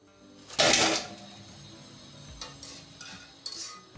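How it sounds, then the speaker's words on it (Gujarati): Batata vada frying in hot oil, with a loud burst of bubbling and scraping near the start, then a softer steady sizzle with a few brief spikes of spoon or ladle movement, heard up close. "તમે જો કેટલો સરસ અવાજ આવે છે ને તળાઈ પણ કેટલા સરસ ગયા છે"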